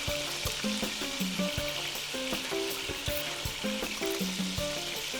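Ground meat for chili sizzles hard in an uncrowded pan, a loud continuous fry broken by repeated clinks and scrapes of a utensil stirring and pushing the browning batch.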